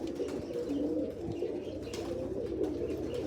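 Low, throaty cooing of a Malwai pigeon repeats in a steady rolling rhythm, close by and moderately loud, with faint rustling in the background.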